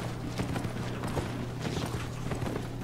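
Armored horse hooves clip-clopping steadily in the online game Albion Online, a continuous rhythmic clatter over a constant game hum, with no talking.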